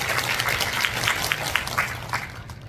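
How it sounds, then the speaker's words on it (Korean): Applause from a seated audience of parents at an indoor community event on youth drug prevention in Busan, a steady moderate patter of clapping that fades toward the end. "오늘 우리 수고하신 우리 연장님들에게 큰 박수로 서로 격려해 주시고"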